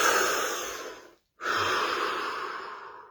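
A deep breath drawn in slowly and close to the microphone, a breathy inhale that stops in a short pause and then turns into a long, steady exhale that fades out gently.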